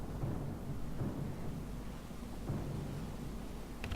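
A thunderstorm at sea in the game Pillars of Eternity II: Deadfire: a steady low rumble of thunder and rain rolls on throughout, loud and continuous, with no talking.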